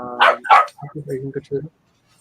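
A dog barks twice in quick succession, loud and close, followed by softer whimpering yips, with voices talking nearby.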